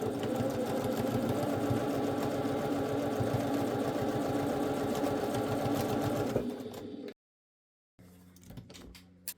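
A sewing machine runs steadily as it stitches across the top of a fabric pouch, a close, buzzing hum that holds for several seconds and then stops abruptly. Brief silence and faint handling noises follow.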